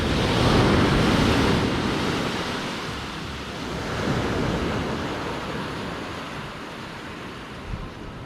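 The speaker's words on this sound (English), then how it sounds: "a little bit calmer beach to come to outside of Sayulita" Waves wash steadily onto a calm beach near Sayulita, Mexico, a broad continuous surf roar with gentle swells in intensity, some wind noise on the microphone, and no voices.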